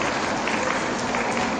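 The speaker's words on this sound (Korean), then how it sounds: "박수 한번 쳐주세요." Audience applause at a Hyojeong rally in Jeongeup, South Korea: a steady, dense wash of many hands clapping together, even and sustained throughout, with no voices standing out.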